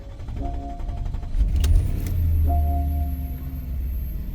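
A Porsche engine idling smoothly after being refueled from empty, a steady low rumble with a slight swell in the middle, heard close and without talk.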